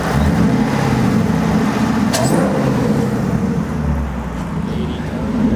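A supercharged V8 drift truck engine warms up with a loud, steady, rough rumble that holds constant throughout.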